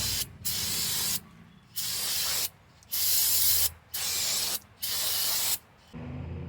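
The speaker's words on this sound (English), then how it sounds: "right now I'm gonna spray a brake cleaner here" Brake cleaner sprayed onto a car's brake rotor during Honda CV axle work: five loud, steady hissing aerosol bursts, each about a second long, separated by short pauses, close to the can.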